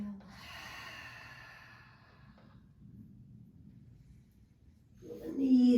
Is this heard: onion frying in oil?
no